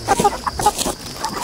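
Chickens cluck in short, busy bursts at close range while being carried to market, several birds calling over one another without pause.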